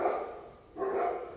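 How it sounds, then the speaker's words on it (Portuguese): Dog barking in two bursts amid background noise, with a short lull between them; moderately loud. "Agora é o cachorro."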